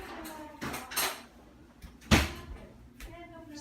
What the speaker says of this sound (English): Grab a spoon from the drawer.